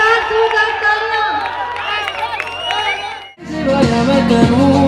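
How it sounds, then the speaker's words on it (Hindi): At a medical college cultural fest, an audience cheers and whoops over loud sung or amplified voices, then breaks into clapping and crowd noise in a second, busier burst. "ख्वातीनों हज़रात जोरदार तालियां"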